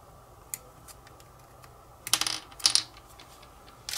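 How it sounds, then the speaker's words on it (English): Plastic model sockets are snipped off a parts frame for a T-800 Terminator build: a few faint ticks, then two sharper clipping snaps close by in a quiet room. "we take our two sockets and we're going to cut those off."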